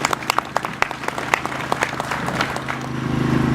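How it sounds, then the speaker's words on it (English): A crowd at a hunger strikers commemoration march in Cork applauds Councillor Mairead Farrell, a steady patter of clapping with sharp individual claps near the front, swelling slightly toward the end. "Do you mind give a round of applause, please, for Councillor Mairead Farrell?"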